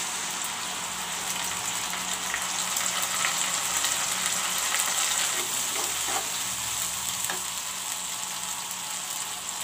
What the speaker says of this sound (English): Now I will put in the ginger garlic and onion paste.